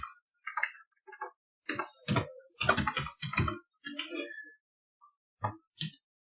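Typing on a computer keyboard while entering an Excel formula: short, irregular clusters of close, crisp key clicks separated by brief pauses, with no talking.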